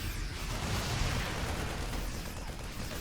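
A siege tank being sniped in a StarCraft match, heard as a dense, loud burst of explosive crunching and rumble that sustains for a few seconds with no voices over it.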